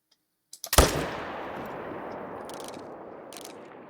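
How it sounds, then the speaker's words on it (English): A single sharp rifle shot fired at a lion in the hunting game theHunter: Call of the Wild, preceded by a few soft clicks, cracks loud and close, then rolls into a long echoing decay that fades out slowly. "We'll go ahead and take a shot on her."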